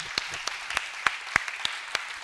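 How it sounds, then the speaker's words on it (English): Scattered, separate handclaps from a small audience after a motivational talk on AFL premiership strategies, about a dozen sharp claps spread unevenly and moderately quiet. "Give a round of applause."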